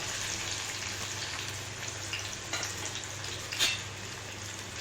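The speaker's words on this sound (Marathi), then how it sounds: "आपला कांदा परततोय" Medium-sized onions fry in a pan after cumin seeds and curry leaves have gone in, a steady soft sizzle with faint crackles and one brief clatter near the end, no talk.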